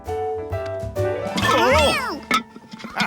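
A cartoon cat from an Italian restaurant in Curious George lets out a drawn-out, wavering meow over soft background music tones, followed by a couple of short sounds.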